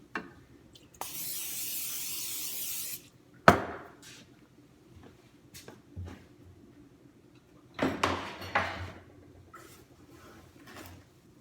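Baguette dough on a sheet tray sprayed before proofing: one steady hiss of spray lasting about two seconds, then scattered knocks, rustles and handling noises nearby.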